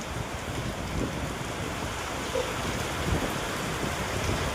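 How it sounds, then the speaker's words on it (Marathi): Heavy rain lashes down during a windy storm, a thick, continuous roaring wash of water that holds steady and loud throughout with no voices. "आमच्याकडे पाऊस आलाय. खूप आलाय पाऊस"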